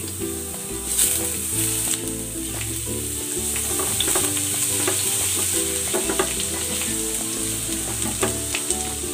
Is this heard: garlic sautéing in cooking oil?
yes